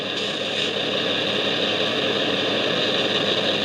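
A model Accurascale Class 60 diesel locomotive spools up with a steady, droning engine whine and broad hiss, holding constant and loud throughout with no voices.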